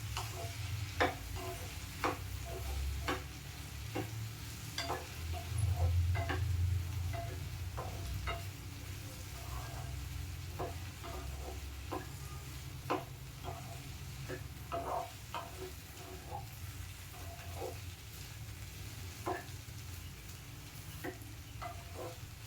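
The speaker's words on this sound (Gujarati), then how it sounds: "મસાલો નાખીને બધું શાક હલાવી દેવું" Spiced okra (bhindi) sabzi frying in a pan, a soft continuous sizzle under scattered light scraping and tapping from stirring, fairly quiet and close.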